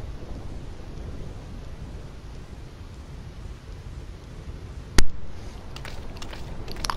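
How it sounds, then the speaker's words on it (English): A thunderstorm in Final Fantasy X, steady rain and wind roaring throughout, broken by one sharp, loud thunder crack near the end followed by scattered crackles. "This storm never stops."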